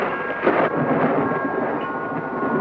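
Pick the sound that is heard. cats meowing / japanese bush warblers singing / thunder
thunder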